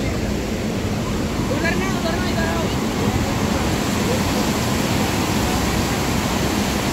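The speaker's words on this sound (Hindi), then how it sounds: "और भाई साहब फ्लो देखो पानी का" Hot spring water gushes from a pipe into a pool at an outdoor hot spring. The rushing flow is loud, steady and close for about seven seconds, with someone speaking faintly beneath it.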